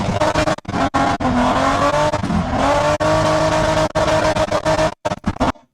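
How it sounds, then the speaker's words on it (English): A rally car driving hard, its engine revving with sharp cutoffs between bursts while the tires squeal and skid, loud and close, broken by brief silent gaps near the end. "they took him to the rally and like put him in the car and like they dragged him around"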